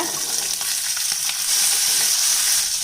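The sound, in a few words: small onions sautéing in oil for chutney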